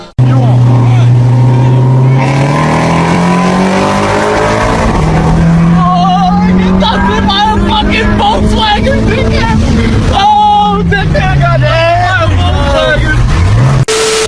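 A Volkswagen Golf and a Mustang GT accelerate hard side by side in a street race, engines roaring loud and close as revs climb, drop at a gear change and climb again, with voices over the noise.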